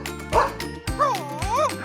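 A dog sound in a toddler's farm-animal puzzle game: a short bark-like yip, then a bright, wavering cartoonish howl, with a soft jingle nearby, all close and clear.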